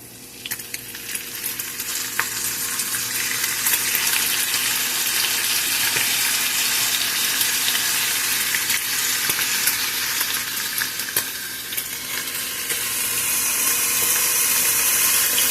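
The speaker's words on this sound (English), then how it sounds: "The goal is to get the meat cooked up and ready" Meat fries in a pan with a constant, loud sizzle and crackle for the whole stretch, without pause or talking.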